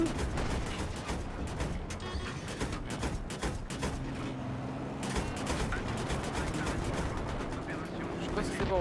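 Rapid gunfire and cannon shots from a 10 mm gun crackle through a military shooter game set at Karkand, repeated sharp bursts over a constant background rumble, with someone talking over parts of it.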